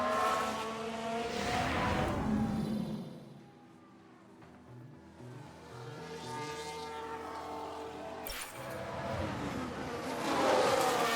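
A race car in F1 Manager 22 roaring past with a high engine whine, fading out and returning, with a brief tonal tire squeal as the brakes lock up.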